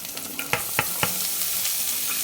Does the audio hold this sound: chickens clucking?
no